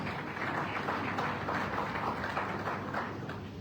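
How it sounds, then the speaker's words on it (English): Steady applause from an audience at a youth internship scheme launch event in a hotel in Port Harcourt, a soft, even wash of clapping that holds at a constant level throughout. "A round of applause for him, please."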